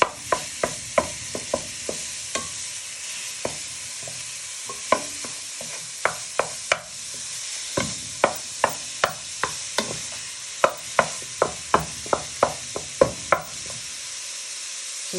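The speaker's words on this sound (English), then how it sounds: "fry your mince in your frying pan, and you want to break it all apart using your wooden spoon" Minced meat fries in a pan under a steady sizzle, broken apart with a wooden spoon that knocks and taps sharply against the pan in quick irregular bursts.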